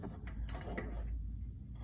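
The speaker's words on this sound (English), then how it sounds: "I'm going to open the door and then gently remove the front apron" The front apron of a switched-off dispenser machine is pulled loose, giving a couple of short plastic clicks and creaks followed by faint rattling, close and quiet.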